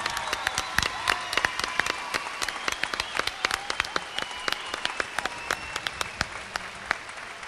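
A concert crowd at a carranga folk show gives sustained applause, a dense patter with sharp individual claps standing out and a few faint shouts and whistles scattered through it.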